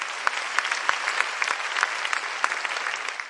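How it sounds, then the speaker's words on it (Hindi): Audience applause welcoming poets onto the stage at a Hindi poetry gathering, a steady, dense clapping from a sizeable crowd with no voices over it. "जोरदार तालियों से स्वागत करती हूँ"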